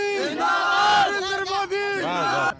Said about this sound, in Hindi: नारेबाजी क्यों कर रहे हो?